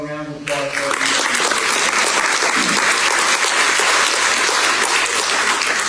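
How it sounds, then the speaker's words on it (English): An audience at an anniversary variety show bursts into loud, sustained applause for the county commissioners. A short tone comes first, then dense clapping fills the rest of the moment. "Can we have a round of applause for them?"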